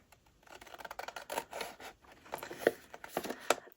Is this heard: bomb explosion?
no